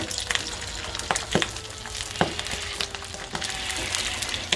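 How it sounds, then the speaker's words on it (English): A pork hock deep-frying in hot oil sizzles steadily with sharp, irregular pops and crackles bursting through, close by and fairly loud, with no talking. "you don't want a lot of those sounds popping up your hot oil"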